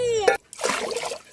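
Food being rinsed in water in a home kitchen: a short voice at the start, then a gap, then a close, splashing slosh of water that fades.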